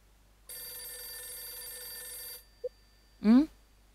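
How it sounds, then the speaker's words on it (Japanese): A telephone rings in the Nintendo DS video game Last Window, giving one sustained, bright electronic ring for about two seconds. A short blip follows, then a brief rising vocal sound. "また電話か。"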